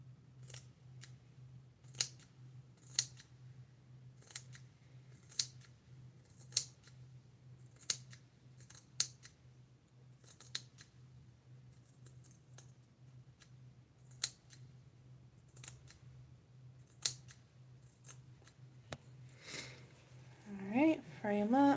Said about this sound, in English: I'll try these other little scissors.